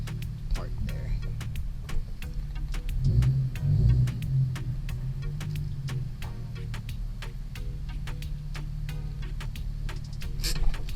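A Nissan 370Z engine rumbles low and steady as the car is eased into a parking spot, with faint ticking and a slight swell in the middle.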